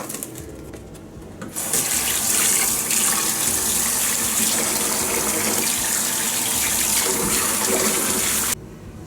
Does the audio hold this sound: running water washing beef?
yes